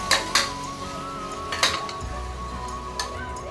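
Metal spoon clinking and scraping against a pan while biryani masala with chilli powder, turmeric and mint is stirred, a few sharp clinks scattered over a quiet background.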